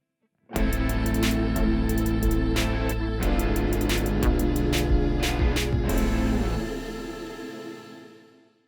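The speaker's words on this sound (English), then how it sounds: "So let's hear some diminished 7ths in context." Sustained, tense-sounding diminished seventh chords ring out one after another on a distorted instrument, loud and alone, fading away at the end.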